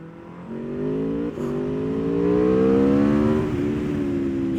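A sport motorcycle, either a Triumph Street Triple or an Aprilia RSV4, accelerates at full throttle, its engine note rising steadily through the gears in a loud, close, smooth whine with a brief dip at a gear change.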